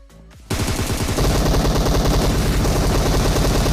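Automatic weapon fire in PUBG Mobile starts after a brief quiet moment and becomes a loud, rapid, sustained burst of gunshots that keeps going to the end.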